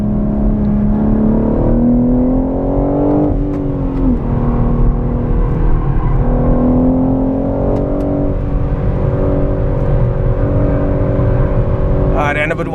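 A 2021 BMW M3 engine drones and climbs in pitch as it accelerates hard on a race track, heard continuously from the cabin, with steady road and wind noise underneath and a brief burst of noise at the end.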